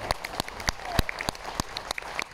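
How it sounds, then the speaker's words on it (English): Scattered audience clapping at an evening show aboard a cruise ship, sharp individual claps in a loose irregular rhythm, close and fairly clear, with a few hands rather than a full crowd. "Let's give a nice big round of applause for Ben, everyone."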